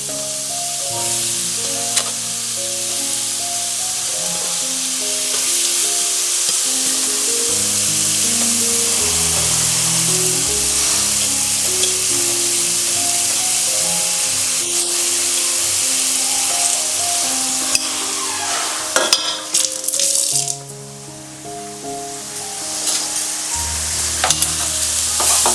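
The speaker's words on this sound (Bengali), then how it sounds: "ফুলকপিগুলো দিয়ে খুব ভালো করে নাড়াচাড়া করে নিচ্ছি।" Grated cauliflower stirred in a pan over a medium gas flame for a Bengali cauliflower paratha, a steady close frying hiss with repeated scraping spatula strokes, under background music and unbroken by speech.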